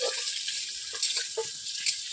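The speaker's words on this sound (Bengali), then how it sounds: "জিরে বাটা দিয়ে আমি জলটা দিয়ে দেবো" Water poured into a frying curry with cumin, chilli and ginger paste sets off a bright hissing sizzle with splashy bursts and stirring, continuous and close, with no talk.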